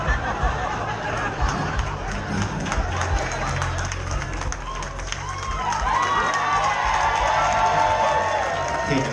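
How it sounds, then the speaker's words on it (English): A comedy club crowd at a festival bursts into applause and cheering, a sustained loud wash of clapping and whoops with scattered laughter and chatter throughout. "Didn't expect to get a round of applause out of this crowd."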